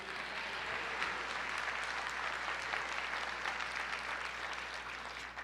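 A church congregation applauding together, a dense steady wash of clapping that holds evenly for the whole stretch without pause.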